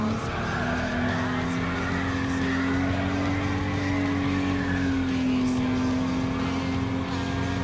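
A classic Jaguar E-Type in Gran Turismo Sport holds a steady engine drone through a corner, with faint tire squeal layered over the continuous, close motor tone.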